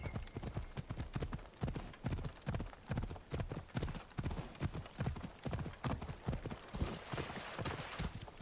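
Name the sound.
horse riding hooves in video game Assassin's Creed Odyssey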